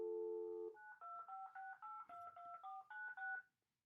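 A phone number being dialed on a handset before calling a guest into a sports interview show: a steady dial tone, then a quick run of about ten distinct DTMF keypad beeps in uneven rhythm, close and clear, with no talk.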